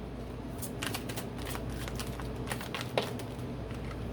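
A tarot card deck is shuffled in a steady run of soft riffling, flapping card sounds, fairly close and continuous with one sharper snap near the end, no talk over it.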